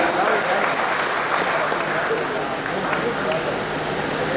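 Applause from an audience at an inauguration event, a broad, continuous patter of many hands clapping that stays even and fairly loud, with voices mixed in underneath.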